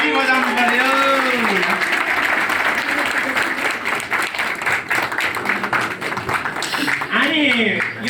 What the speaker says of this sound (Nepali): ताली बजाउनु पर्यो।